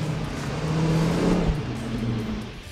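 A car engine revs and hums steadily up close as the vehicle is backed up and moved during a repossession, rising slightly in the middle, with no talk over it.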